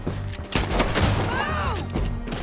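Gunfire in the Red Dead Redemption 2 video game: a dense volley of sharp shots and booming cracks with whizzing ricochets, loud and close, over a continuous battle din.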